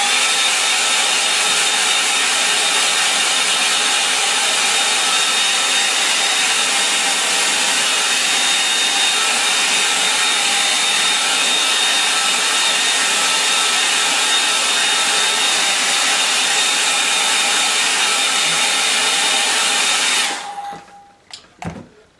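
Hair dryer blowing on a watercolour painting in a sketchbook, a loud, steady close whir that holds evenly for about twenty seconds, then cuts off abruptly, leaving a few faint knocks.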